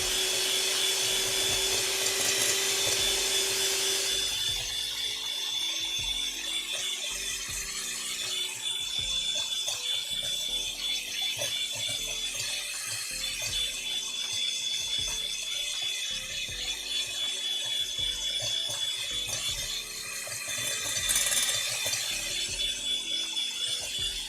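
An electric mixer with a whisk beats a baking mixture in a steady, loud, continuous whir, with grinding and rattling mechanical tones throughout and no talking.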